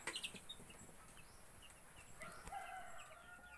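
Ten-day-old chicks in a brooding area peep faintly and intermittently against a soft background hiss, with high chirps scattered through the clip.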